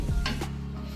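Stir-fry ingredients sizzle steadily in a hot pan, with a soft stirring scrape near the start of the brief moment.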